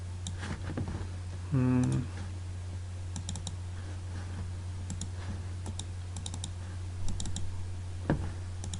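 Sparse, light computer mouse clicks from opening a file in Photoshop CC 2017 tick over a steady electrical hum, with one short buzzy tone early on.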